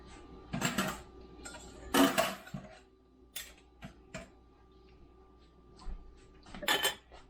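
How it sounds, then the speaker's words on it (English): Sterilized metal canning lids are handled for jars of green beans, giving a handful of sharp metallic clinks and clatters spaced out over quiet pauses. "So now I'm going to take the lids."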